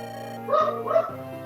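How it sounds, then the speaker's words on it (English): A pet dog barks twice, indoors, in the background under steady hum and a faint voice. "it's my dog. He's barking at something."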